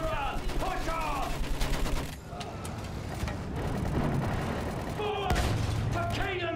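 Rapid machine gun fire and battle explosions in the World War I shooter Battlefield 1, loud dense bursts with booming impacts and shouted voices over the chaos.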